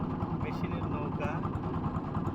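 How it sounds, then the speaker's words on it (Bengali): Steady engine of a motorized boat droning continuously out on open floodwater in a rural wetland, with a voice speaking over the motor throughout. "মেশিনের নৌকা"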